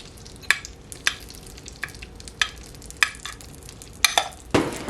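Batter poured into melted butter sizzles softly in a Dash Mini Pie Maker, a steady hiss broken by regular sharp clicks and taps nearby.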